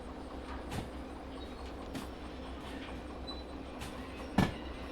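A locomotive runs in the Derail Valley train simulator game with a steady low rumble. Scattered rail clicks and a sharp clank come near the end, and no one speaks.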